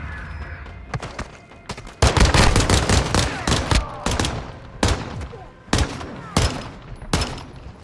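Dense gunfire in Call of Duty: Modern Warfare II, loud close bursts of rapid automatic shots mixed with heavy single blasts in an irregular rhythm throughout.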